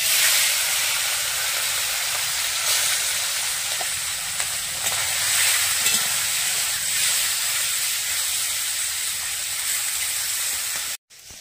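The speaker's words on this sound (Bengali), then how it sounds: "মাছগুলো ভাজা হোক" Small mourola fish frying in mustard oil in a wok, giving a loud, continuous close hiss and sizzle that holds steady until it cuts off abruptly near the end.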